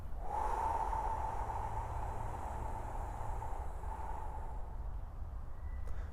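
A breathing exercise: one long, steady exhale through the mouth, close and continuous for about six seconds, with soft airy noise throughout and no talking.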